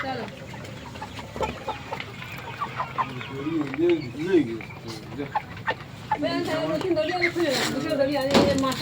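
Chickens and chicks clucking on a poultry farm, repeated clucks and calls rising in the second half, heard under people talking nearby.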